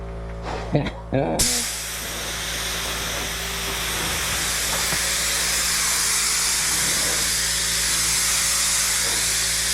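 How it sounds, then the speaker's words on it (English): Power tool sanding and polishing a workpiece with a clear finish, a steady loud hissing whir that runs continuously, preceded by a brief moment of talk. "today's the day we're sanding and polishing"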